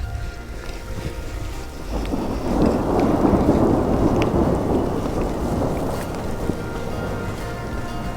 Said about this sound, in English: I just saw a massive lightning strike over there.